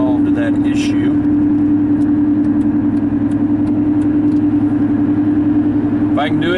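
A 1997-2003 Ford F-150 engine running steadily after an ignition coil replacement, a constant close hum with an even idle and no stumbles, heard under a voice talking.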